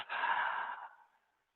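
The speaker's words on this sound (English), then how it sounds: "Inhale deeply through the nose. Exhale through the mouth." A single deep exhale through the mouth during a slow-flow yoga breathing cue, a long breathy rush that starts strong, holds for most of a second and then trails off softly into silence.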